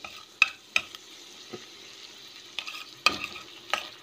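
Garlic frying in butter in a hot pot, giving a faint steady sizzle broken by several sharp clinks and scrapes of a stirring spoon against the pot.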